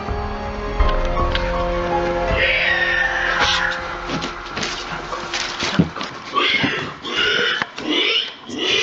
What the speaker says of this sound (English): Kind of sounds like a wild boar or a pig